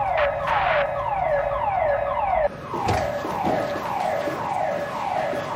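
Hospital fire alarm in a busy emergency department, wailing in repeated falling sweeps that fill the room loudly and continuously, shifting pattern partway through.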